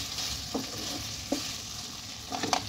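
Cauliflower florets with green chillies and ghee are stirred in a pan: a steady soft sizzle runs throughout, broken by three or four distinct scraping strokes of the spoon against the pan, close and moderately loud.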